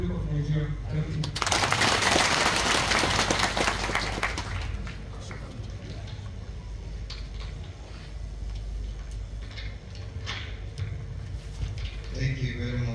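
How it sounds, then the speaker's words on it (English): An audience applauds at a formal event after a presentation, the clapping rising sharply, holding loud for a couple of seconds, then fading into scattered claps and murmuring voices. "Thank you very much for a wonderful presentation. It's a round of applause."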